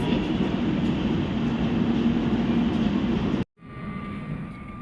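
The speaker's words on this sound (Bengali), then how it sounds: "এই যে এই ট্রেনটা দিয়েই নামলাম আমরা।" Howrah–Rajendranagar Express train at Bakhtiyarpur station, a loud steady rumble of the train running alongside the platform that cuts off abruptly near the end, leaving a quieter station hum.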